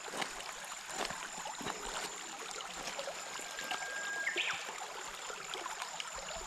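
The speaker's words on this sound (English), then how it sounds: "there's just nothing more tranquil than the sound of flowing water." A crystal-clear stream flows near a waterfall campground, a soft steady trickling babble with faint scattered clicks and a brief high tone midway.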